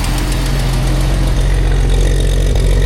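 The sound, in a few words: engine of 100-year-old Packard car running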